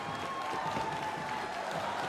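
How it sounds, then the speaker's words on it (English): A wrestling crowd at the Aztec Theater in San Antonio cheers in a continuous roar of applause and shouting, a steady wash of noise with no break. "The crowd here at the Aztec Theater in San Antonio en fuego."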